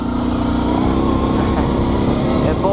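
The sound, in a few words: Kawasaki Brute Force 650 ATV engine at full throttle, wheels spinning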